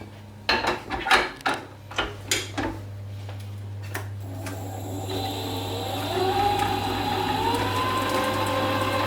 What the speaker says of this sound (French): je remets au batteur, je vais détendre ma crème pâtissière